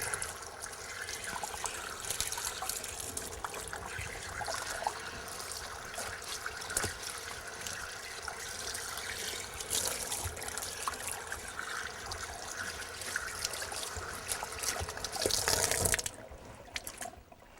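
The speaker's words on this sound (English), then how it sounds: "The first step is to wet the hide down because if you've got running water to do that, it keeps the fur from getting all over the meat." Running water pours steadily to wet and rinse a rabbit hide, a constant soft splashing hiss lasting throughout. It drops off near the end, and no one speaks.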